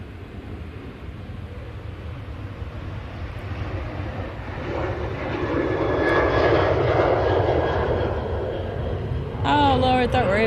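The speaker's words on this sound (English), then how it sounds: "Right, here's the Ryanair." Ryanair airliner engine roaring past a plane-spotting spot, a steady broad rumble that swells toward the middle and stays loud, with people talking nearby over it.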